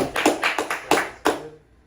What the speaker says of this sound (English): everybody give him a round of applause, man